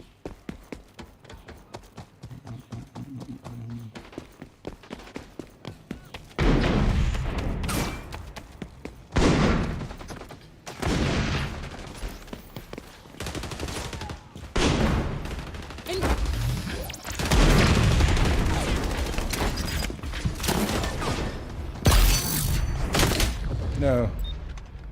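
SMG gunfire in the XDefiant open beta, aimed at hostiles pushing a package: fast broadband bursts of shooting start a few seconds in and keep recurring, loud and close, mixed with heavy in-game booms and impacts.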